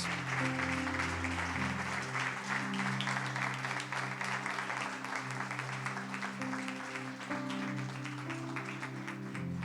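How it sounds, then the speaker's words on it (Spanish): A church congregation applauds during a service in a continuous wash of clapping, with sustained organ or keyboard chords ringing underneath throughout. "Demos un fuerte aplauso al nombre de Dios."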